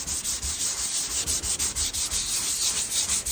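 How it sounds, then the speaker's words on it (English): Body filler is hand-sanded on a Lexus IS300 panel, feathering it into the surrounding paint. The close, dry rasping strokes repeat in a steady back-and-forth rhythm, with no talking. "I want to stop sanding there."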